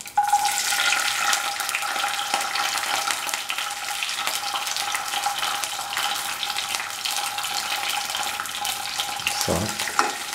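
Cashew nuts and raisins frying in ghee, a steady loud sizzle with bright crackling throughout and light stirring scrapes near the end.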